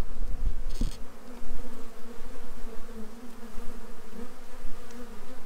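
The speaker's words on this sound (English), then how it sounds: "Let's see if we can see how these bees are getting in though before we put this back in." Honeybees buzz around a pollen trap fitted at a hive entrance, a dense, close, continuous drone with a few sharper passes near the microphone and no talk.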